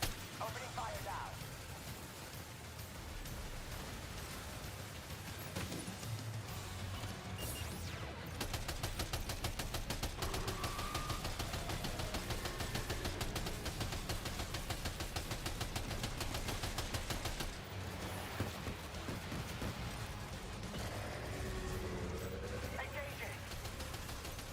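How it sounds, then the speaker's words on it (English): Rapid, sustained gunfire rattles through a video game space battle, dense and continuous without a break, while voices speak over the shooting. "Opening fire now."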